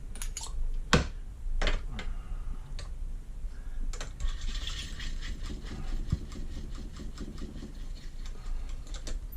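A case trimmer cuts .300 Win. Mag. rifle cartridge cases to length with faint, rapid ticking and light scraping, broken by a few sharp metallic clicks from handling, all at low level.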